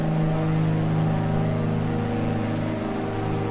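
The twin engines of a Piper PA34 Seneca in the MSFS 2020 flight simulator drone steadily and loudly, their pitch easing slightly as the throttle is pulled back.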